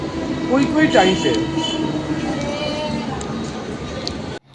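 Continuous rumble of a moving air-conditioned local commuter train with wheel and carriage noise throughout, a few people chatting faintly inside.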